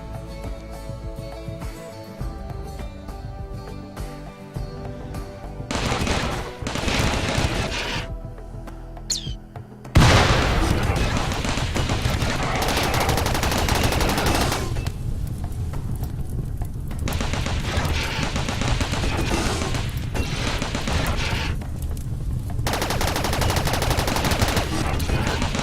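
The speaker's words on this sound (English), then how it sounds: "these guys are going to come in and hopefully get ripped apart by my turrets" Turrets firing at attackers in RimWorld, dense sustained bursts of game gunfire that swell loud and continuous with brief lulls, over a layer of background game music and effects, with no talk.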